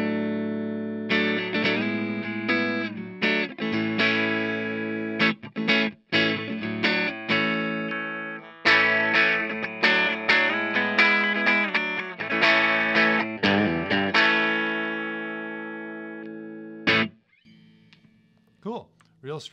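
Clean tone from a Fender Telecaster played through a Tone King Gremlin amp, a run of plucked notes and strummed chords with short gaps, ringing out clearly and ending in a few faint decaying notes.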